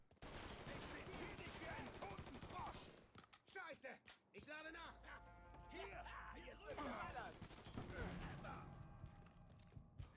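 Enemy gunfire in Mafia III, bursts of rapid shots crackling loudly at the start and again later, with someone talking in German between and over the shooting.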